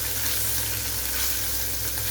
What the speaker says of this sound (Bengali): একটু হালকা করে পনিরগুলো ভেজে নিচ্ছি।